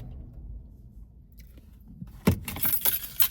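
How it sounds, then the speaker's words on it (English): Keys jangle briefly and fairly close after a quiet stretch, a short burst of metallic clinks near the end, heard alone with no talk. "Keys"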